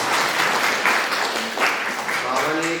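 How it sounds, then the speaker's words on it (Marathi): Students in the back row of a classroom clap together, a dense burst of applause lasting a few seconds with a voice speaking over it. "मग शेवटच्या रो मध्ये बसलेले विद्यार्थी टाळ्या वाजवा"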